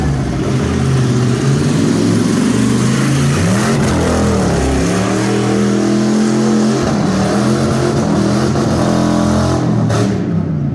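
Ford F150 pickup with a 5.4 V8 and 4x4 revving hard in a torture test, loud repeated rising and falling engine surges throughout, strained and raw.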